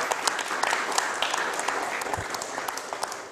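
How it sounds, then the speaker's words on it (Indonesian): Seminar audience clapping again after a talk on podcasting, with a brief burst of many hands in quick, slightly uneven rhythm, moderately close, gradually thinning toward the end. "boleh beri tepuk tangan sekali lagi teman-teman"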